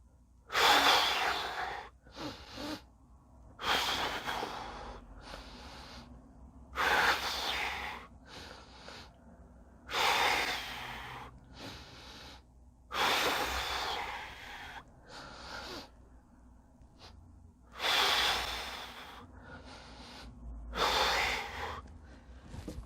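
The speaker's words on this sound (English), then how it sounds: "and keep breathing." Heavy breathing during a seated chair exercise: loud, close inhale and exhale bursts repeating every few seconds in a steady rhythm, with quiet pauses between.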